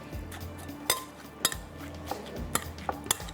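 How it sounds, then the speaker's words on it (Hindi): Kebab meat being mixed in a bowl with onion, fresh lemon juice, salt and red chilli; utensils clink and scrape against the dish several times in an uneven rhythm, close and fairly quiet. "चलो जी, अब इसको करते हैं अच्छी तरह से मिक्स।"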